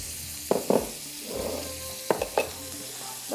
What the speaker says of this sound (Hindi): बस हल्का सा फ्राई करके हम ये इसके ऊपर डाल देंगे